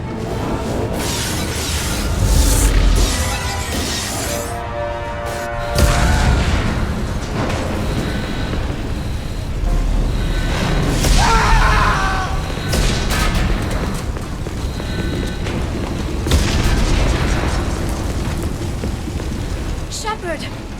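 Heavy explosions rock a starship in the video game Mass Effect 2, with repeated deep booms and crackling debris bursts under tense character voices throughout.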